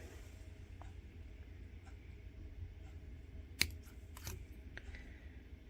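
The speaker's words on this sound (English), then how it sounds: "this is where we're going to go ahead and snip" Wire cutters snip jewelry wire for a necklace: two or three sharp, close clicks near the middle and end of the clip, standing out over a low steady room hum.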